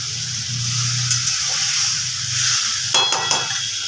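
Water poured into a pan of pumpkin and chickpea curry sets off a steady, close hiss and sizzle, with a couple of brief clinks and splashes near the end.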